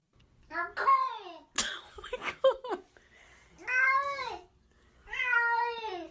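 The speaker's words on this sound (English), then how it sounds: "Did this cat fucking just talk in English?" A cat gives a run of drawn-out, talk-like meows, close and clear, several rising-and-falling calls with short pauses, with an excited voice cutting in between.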